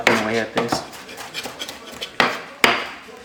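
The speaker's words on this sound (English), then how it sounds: "I try to mince this the best I can by just chopping" A kitchen knife repeatedly chops cilantro on a cutting board for guacamole, giving close, uneven knocks with a couple of sharper, louder strikes near the end.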